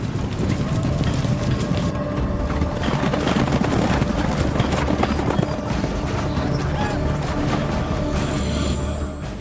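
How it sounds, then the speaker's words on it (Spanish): A group of cavalry horses approaches with loud, dense clip-clop hoofbeats, a steady rumbling gallop under a spoken narration. "Los exploradores indios alertan a Caballo Loco de la aproximación de la caballería"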